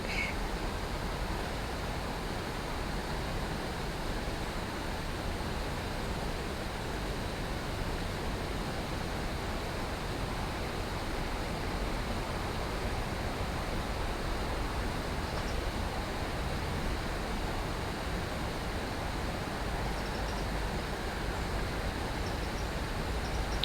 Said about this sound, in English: Now I can hear a waterfall just over to my left.